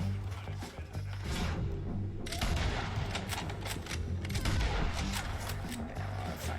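Distant gunfire in the Red Dead Redemption video game, a scatter of sharp shots and bursts popping over a steady low hum and game ambience, with a busier cluster of cracks midway through.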